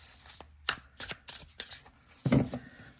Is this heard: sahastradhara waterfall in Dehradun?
no